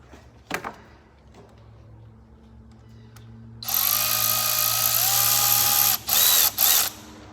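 A power tool, apparently a drill or driver, runs up close as a 10mm bolt is tightened on the solenoid of a 2012 GMC Terrain. It sounds as one sustained whir of about three seconds, then two brief bursts, after faint clicks and handling noise.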